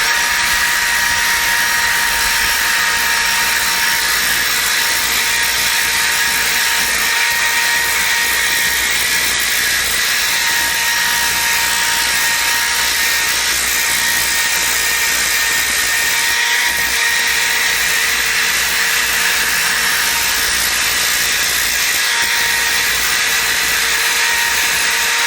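A power sander whirs continuously at close range, grinding primer off Kwikwood filler in a steady, loud, high-pitched drone with no pauses.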